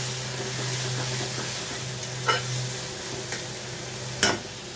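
Bitter gourd frying in a pan and being stirred, a soft continuous sizzle under a hum, broken by a few sharp scrapes of the spoon against the pan.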